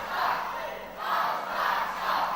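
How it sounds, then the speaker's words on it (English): A wrestling arena crowd chants "All Star sucks" in steady, rhythmic swells of massed voices, loud and continuous, at an FWA versus All Star Wrestling match. "you hear the crowd chanting, All Star sucks"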